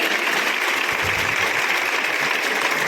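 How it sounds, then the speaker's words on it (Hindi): A church congregation at a New Year service claps loudly together, a dense, even wash of applause lasting about three seconds without clear voices. "हम लोग प्रभु के लिए जोरदार ताली बजाएंगे"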